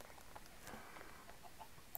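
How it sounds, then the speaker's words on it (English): A Minecraft chicken clucks in the video game with a few faint, short clucks over a low steady background. "That's a chicken."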